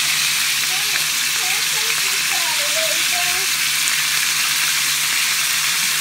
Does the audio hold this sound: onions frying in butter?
yes